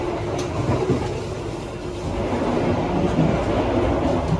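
The Argo Dwipangga executive train, running with a New Generation executive carriage set, rolls steadily on rails with a continuous loud, close rumble and faint clicking, and no talk.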